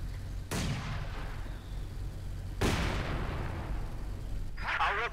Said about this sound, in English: Mortar continuing to fire